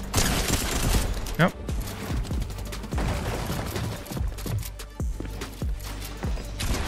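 Rapid gunfire in the Fortnite video game, with bursts of close, loud shots, sharp cracks and rattling volleys repeating throughout amid other game sounds.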